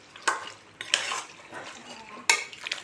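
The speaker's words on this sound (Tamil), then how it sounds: "இப்போ மட்டன் போட்டாச்சு. இப்போ நம்ம இதெல்லாம் நல்லா எல்லா இடத்துலையும் படுற மாதிரி நல்லா கிளறிட்டு" A spoon scrapes and stirs mutton around a hot pan for mutton kolambu, with a few sharp clattering strokes over a soft, steady sizzle close by.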